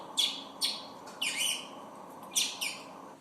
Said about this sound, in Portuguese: Temos também o som dos passarinhos, que esse aqui é um pássaro que se chama tiê.